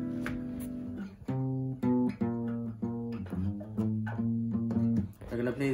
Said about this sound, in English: That means open strings should sound like this.